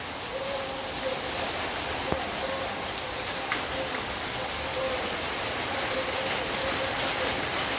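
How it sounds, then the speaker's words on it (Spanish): Rain drums steadily on a metal sheet roof during a night-time downpour, a dense, even hiss and patter that holds at a constant moderate loudness throughout, with no clear pauses. "la lámina hace una gran bulla, porque desde el día a medianoche empezó a llover"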